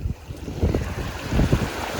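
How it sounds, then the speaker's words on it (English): Ocean waves surging and splashing onto a Lanzarote beach during shore fishing, rough rushing water with gusty wind noise on the microphone, close and fairly loud in uneven bursts. "I just got very splashed by a wave then"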